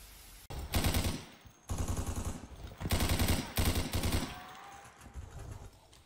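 A machine gun fires in a video game, loud sustained bursts of rapid shots repeating in four long strings with short gaps between them.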